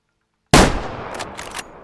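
A single close, loud rifle shot fired at a deer while hunting in the video game Way of the Hunter, a sharp crack with a rumbling echo and a few faint rattles trailing after.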